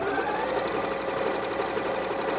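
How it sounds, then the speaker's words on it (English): A Bernette b38 sewing machine runs a locking stitch on fabric with contrast thread, a steady close whirring hum with a fast rhythmic needle chatter and no pauses. "So it starts out with a locking stitch."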